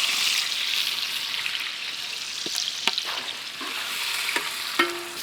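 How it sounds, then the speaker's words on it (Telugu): Sliced onions fry in ghee with whole garam masala spices, a steady close sizzle running throughout while a spoon stirs and scrapes the pan in several distinct knocks and clicks. "ఉల్లిపాయ ముక్కలు చక్కగా బ్రౌనిష్ షేడ్ వచ్చేంత వరకు నేతిలో ఇలాగే తిప్పుతూ వేపేద్దాం."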